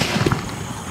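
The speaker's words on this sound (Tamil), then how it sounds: "பென்டா பிளஸ் வைக்க போறோம்." A single Penta Plus firecracker from Sivakasi bursts with a loud sharp crack followed by a brief crackling tail, close by and outdoors.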